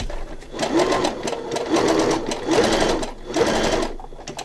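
A sewing machine starts slowly, stitching a tiny applique-style stitch on denim, with close whirring bursts that pulse in a steady rhythm.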